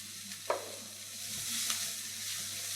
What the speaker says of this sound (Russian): Прожариваем овощи вместе со специями.